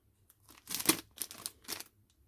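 Small plastic packet of plastic buttons being opened, with brief crinkling and rustling bursts in quick succession, close and soft.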